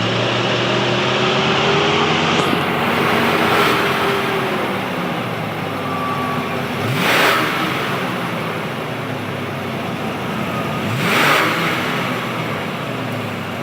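Engine of a 1991 Ford Thunderbird with the 5.0 High Output V8 and stock exhaust (three cats, resonator, two mufflers), idling steadily with two brief rev blips, close and with no talk.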